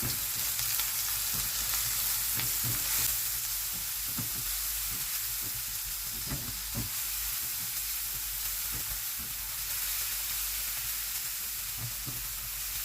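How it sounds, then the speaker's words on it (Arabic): Chopped onion sizzles steadily in hot oil and ghee in a pan, a continuous bright frying hiss with soft scraping knocks as it is stirred, close and alone with no talk. "حطيت زيت مع سمنه يسخنوا، وهنزل ببصلايه مفرومه، بسم الله الرحمن الرحيم. هقلب البصله هتدبل بس مش هتاخد لون"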